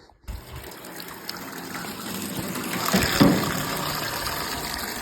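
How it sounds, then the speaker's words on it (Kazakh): Water gushes from a village well in a steady, close rush that swells slightly midway and carries on without pause. "Құдығымыз атылды ғой."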